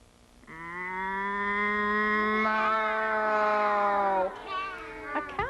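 A person imitates a cow with one long, drawn-out moo held for several seconds, loud and close, ending in a few brief sounds.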